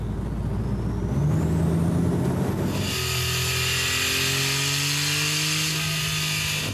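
Porsche 911 Targa turbocharged engine under acceleration, a loud steady drone with rising whistling tones layered over it, shifting partway through to a higher, brighter whine that holds to the end.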